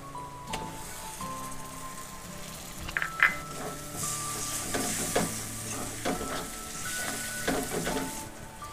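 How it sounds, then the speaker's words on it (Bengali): Liver and stomach masala with tomato frying in a pan, a steady sizzle with repeated spoon scrapes and clinks as it is stirred, close and moderately loud. "এইগুলোকে আবারও ভালো করে কষিয়ে নেব।"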